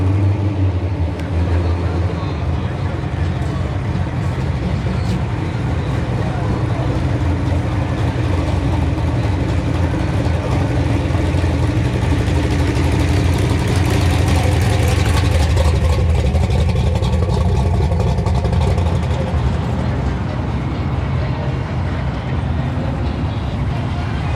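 A car engine rumbles steadily at a low, uneven, choppy idle close by at a car show, with a faint voice in the background.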